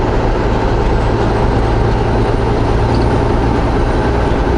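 Vancouver SkyTrain passing close by, a loud steady roar of rail wheels and motors with a low droning hum held evenly throughout, no voices.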